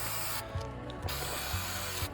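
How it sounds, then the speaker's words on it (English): Klean Strip aircraft paint remover hisses steadily from an aerosol spray can in a long continuous burst, close by, with faint clicks and no talk. "It's not that hard to spray, man."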